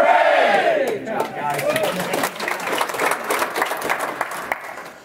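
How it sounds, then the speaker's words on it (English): An office crowd chants a call-and-response cheer three times, one leader's call answered by the group's loud shouted response, with scattered clapping and rowdy cheering that fill the space between the calls. "Hip hip! Hooray! Hip hip! Hooray! Hip hip! Hooray!"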